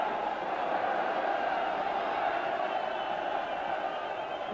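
A Bulgarian football crowd at a Euro 1988 qualifier against Ireland urging its team forward, a steady distant roar of massed voices with no clear peaks, heard under a match broadcast.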